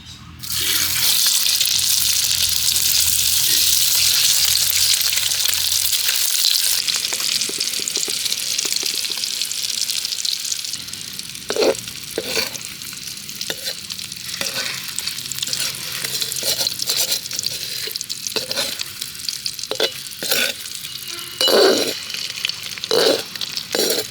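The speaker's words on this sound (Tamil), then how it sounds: "முட்டை தொக்குக்கு தேவையான முட்டையை நம்ம ஃப்ரை பண்ணி எடுத்துக்கலாம்." Eggs with turmeric frying in oil in a pan, a loud steady hiss at first, then settling into softer sizzling broken by repeated scraping and stirring strokes, with no talk.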